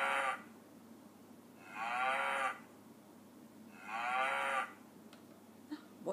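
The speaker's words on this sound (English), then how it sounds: "Well done, it was a cow." A cow moos loudly and close by, two long drawn-out lowing calls with a pause between them, following the tail of an earlier moo.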